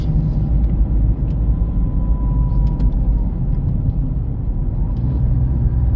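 A car drives along a rough road around Ostrov, a loud, steady interior rumble of engine and tyres with faint rattles on top.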